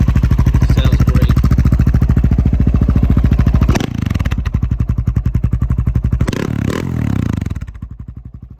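A 2008 Husqvarna SM610 single-cylinder motorcycle idling close by with a heavy, even thumping beat, a couple of brief blips and rattles midway, then settling back down.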